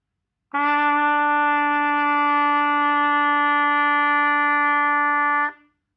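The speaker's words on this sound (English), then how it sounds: "For trumpet, the note we have here is E." A single sustained trumpet note, E, held steadily for about five seconds, clear and bright, then cut off cleanly.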